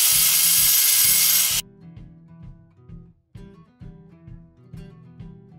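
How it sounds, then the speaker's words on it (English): A 4-inch angle grinder with a masonry blade grinding a burr off a stone veneer panel, a loud harsh burst of grinding that stops abruptly, followed by a quieter pulsing motor rattle that continues. "Now this grinder is a 4-inch grinder and it's got a masonry blade in it."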